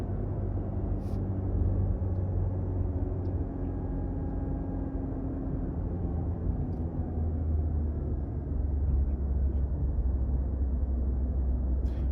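A Toyota Prius in B mode running with a steady, close low engine drone and rumble from inside the cabin, holding fairly even throughout with no voices.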